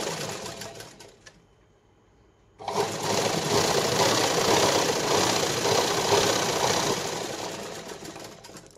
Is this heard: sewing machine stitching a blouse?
yes